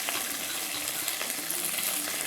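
Onions frying in hot oil with mustard seeds, green chilies and curry leaves for a mushroom gravy, a dense continuous sizzle with light crackles and pops, close and steady throughout.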